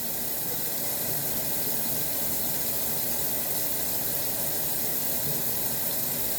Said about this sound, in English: I guess we adding all the water with all of the ingredients that we poured in here